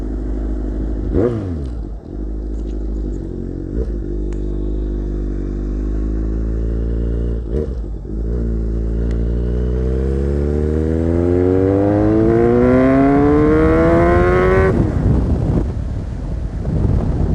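A Kawasaki Z800 motorcycle fitted with an SC Project exhaust revs loudly up close. A deep, steady idle is broken by sharp throttle blips, then the engine climbs in a long rising rev before it drops back.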